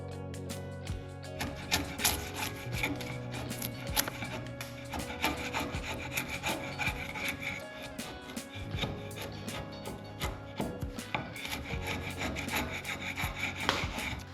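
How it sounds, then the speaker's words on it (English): A chisel scrapes and rasps bark off a log clamped to a workbench, with dense repeated scraping strokes and crackling wood fibres, continuous and close, with no talk over it. "I clamped one to the bench and started taking off the bark with the chisel"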